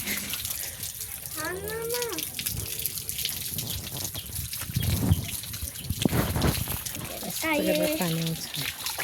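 Water runs from a household tap at a family home, a steady splashing rush that continues throughout, with voices talking over it now and then.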